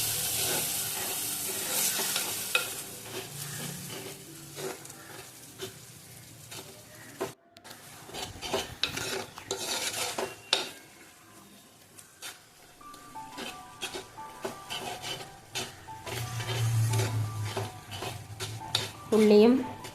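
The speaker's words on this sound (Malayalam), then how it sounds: "ഈ തക്കാളി പേസ്റ്റിൻ്റെ പച്ച ചുവ മാറുന്നത് വരെ നല്ലോണം ഒന്ന് വഴറ്റിയെടുക്കണം." Tomato paste and onions sauté in a pan for a Kerala fish curry. A steady sizzle runs under repeated stirring, with frequent metal scrapes and clinks of a spoon against the pan. No voice is heard.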